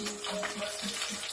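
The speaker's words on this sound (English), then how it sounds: "I'll go ahead and add the onion" Onion drops into hot vegetable oil in a pan for pineapple fried rice, producing a brief, faint sizzle with light crackles.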